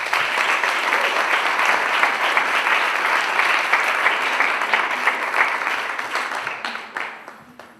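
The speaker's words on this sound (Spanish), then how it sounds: "Les pido un fuerte aplauso también para ellos." A crowd at a panel discussion claps steadily in sustained, dense applause that holds strong, then gradually tapers off toward the end.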